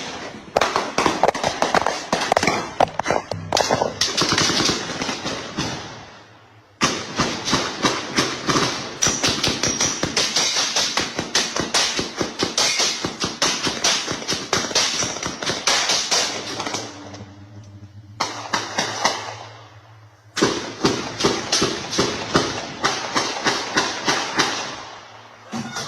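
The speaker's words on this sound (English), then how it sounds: "The sustained nature of the shooting, multiple minutes of nearly continuous gunfire, created terror" Sustained gunfire from a shooting in news footage, long runs of rapid, sharp cracks with brief pauses between bursts, loud and nearly continuous throughout.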